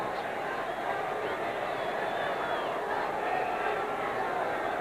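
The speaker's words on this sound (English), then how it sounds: "And this crowd is starting to come alive for the first time this afternoon." A dense stadium crowd at a 1978 CFL Eastern Final football game in Ottawa, Montreal Alouettes at Ottawa Rough Riders, rises into a steady roar of cheering at the kickoff, broad and continuous with distant shouts.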